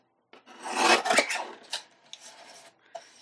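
A craft paper panel is trimmed down on a paper trimmer, a close rasping slide of the blade across the sheet followed by a few lighter scrapes and taps, with no talking.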